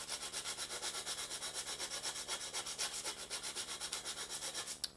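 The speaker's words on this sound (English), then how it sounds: "just to simply sand out all of the holes" Hand sanding of a wooden paddle gives a rapid, even back-and-forth rasping, each stroke a regular scratchy pulse, close and fairly quiet, ending with a sharp knock.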